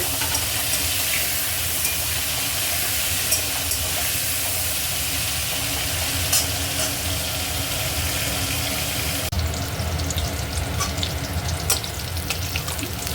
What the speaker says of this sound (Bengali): এবার আমি ফুলকপিগুলো ভালো করে ভেজে নেবো